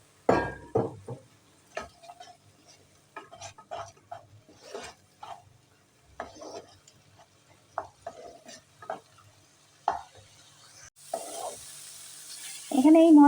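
Masala for a chana curry is stirred and fried in a pan with a little water, heard as intermittent close scraping strokes and soft sizzling, ending in a louder burst of sizzle.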